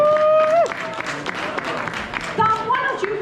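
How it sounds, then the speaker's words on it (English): A crowd at a charity auction at a convention claps for helpers. The applause is steady and fairly close, with tonal sounds and a murmur of voices mixed in. "Perhaps give them a applause"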